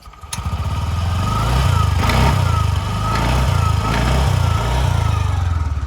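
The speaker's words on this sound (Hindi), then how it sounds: "तो एग्जॉस्ट साउंड मैं सुना देता हूँ आपको, कैसी साउंड करती है अपनी जुपिटर 125" A TVS Jupiter 125 scooter's exhaust note: the engine starts up, then holds a steady, close, throbbing idle with gentle rises and falls in revs throughout.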